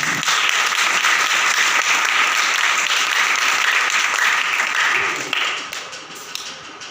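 Church congregation applauding together at a service, a dense steady clapping that holds loud and even for several seconds before thinning out near the end.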